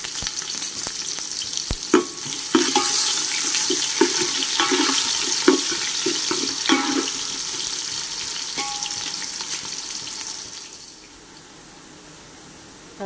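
Chopped half onion hitting hot oil with whole spices in a pan, a loud steady sizzle with crackling pops and scraping stir strokes, fading to quiet near the end; no talking.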